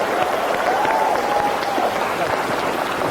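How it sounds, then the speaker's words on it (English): A continuous wash of audience clapping fills a conference hall for a few seconds, steady and fairly loud, with a faint voice tone drifting over it. "if you can join me in giving a round of applause to all of the panelists"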